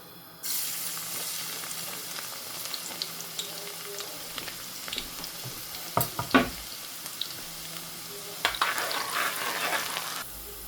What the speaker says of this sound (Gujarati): ચાલો તેલ થઈ ગયું અને પછી લસણ